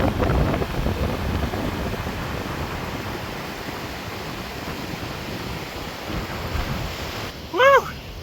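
Rushing water at Fourmile Falls near Pagosa Springs, Colorado, a steady broad roar under gusty wind buffeting the microphone, with a brief tonal chirp near the end.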